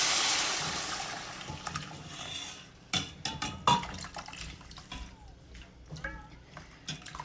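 Water pours into a pot of rasam, a rushing hiss that starts strong and gradually thins. Scattered clinks, drips and small knocks of utensils follow.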